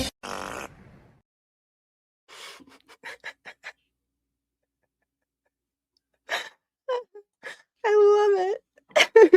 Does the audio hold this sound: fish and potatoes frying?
no